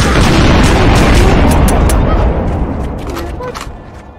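Bombs explode in a SpongeBob video game. A loud, booming blast rumbles heavily, then fades out over a few seconds.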